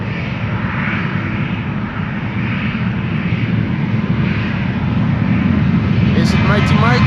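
A Boeing 737-800, registration PH-HXO, roars on departure from Amsterdam Schiphol, a steady loud broadband jet engine rumble that swells slightly toward the end, with a voice talking over it.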